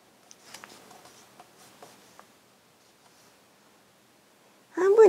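A paper card is folded in half for a pop-up dahlia flower card, giving faint, crisp creasing taps and rustles close by, with a voice starting right at the end.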